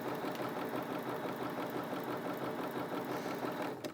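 A Bernina 325 sewing machine runs a standard zigzag stitch, a steady close mechanical whir with a rapid even rhythm that holds for the whole stretch and then slows at the end.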